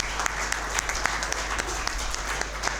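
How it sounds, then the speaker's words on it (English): Audience members at an HR conference clap steadily for a speaker, with individual sharp claps standing out from a moderately dense round of applause. "clap for him."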